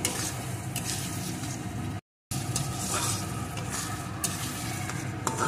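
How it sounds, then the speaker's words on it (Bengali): Chicken curry with chopped tomato is stirred and fried in a pan, giving a steady close sizzle with scraping stir sounds throughout and a brief gap of silence partway through. "এখন আবারও বেশ কিছুক্ষণ কষিয়ে নেব।"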